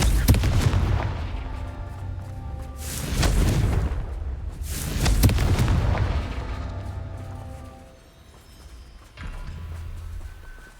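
Confringo fire spell explosions in the Hogwarts Legacy video game: several heavy, booming blasts arriving in waves, each one rumbling and then fading, with a brief lull near the end before another burst.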